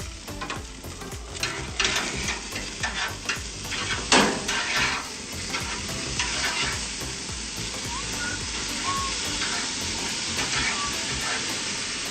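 Steak sizzling in a hot pan in a home kitchen, a continuous hissing fry with crackles and a loud spattering burst partway through, close and steady, no clear talk.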